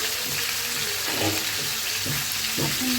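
Fish heads frying in hot oil in a home kitchen, giving a steady, close sizzling crackle with a few soft clinks and splashes, and no one talking.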